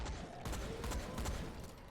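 Gunfire in the Dying Light video game as enemies are shot, a rapid run of sharp repeated shots over a busy noisy background, fairly faint overall.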